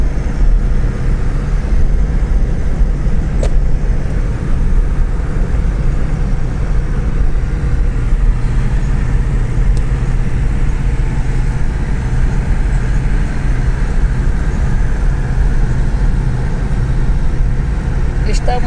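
A car is driven along a road near Bonito, Bahia, with a steady, loud engine and road rumble that runs throughout, and a few faint clicks on top.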